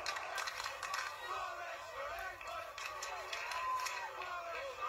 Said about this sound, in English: This crowd going McManus for England.